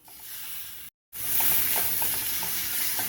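Close sizzling of drumstick flowers and chopped tomato frying in a pan over low heat with repeated scraping stirs, briefly cutting out before the frying resumes.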